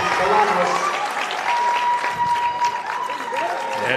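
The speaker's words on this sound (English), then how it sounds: "Everyone's standing up there, cheering." Crowd on its feet cheering and applauding after a pin in a high school wrestling match, South Medford at Crater, a loud sustained roar of clapping and shouting filling the gym throughout.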